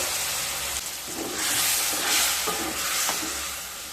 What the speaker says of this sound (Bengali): এবার দিয়ে দেব খুব সামান্য জল।